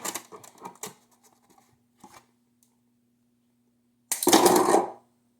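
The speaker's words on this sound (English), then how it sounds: "I'm just gonna cut it with the darn scissors" Scissors cutting the packaging of a Bachmann N scale Santa Fe steam engine model train set: a few sharp snips near the start, then one longer rasping cut through plastic, close and alone.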